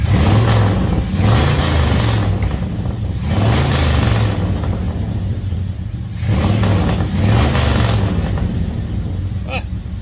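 A 1971 International Travelall 1210 truck engine with dual exhaust, running after 22 years, revs repeatedly in loud surges, its deep exhaust rumble rising and falling close by, with sharp popping bursts between the revs.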